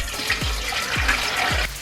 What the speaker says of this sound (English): I recommend always putting in 3/4 of your water in first